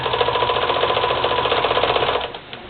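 A sewing machine runs a long stitch through fabric with a fast, even mechanical clatter, loud and close, before slowing and stopping near the end.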